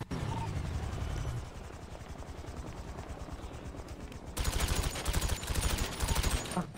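Rapid automatic gunfire in a shooter video game, a dense rattling stream that grows louder and closer toward the end over a steady droning background.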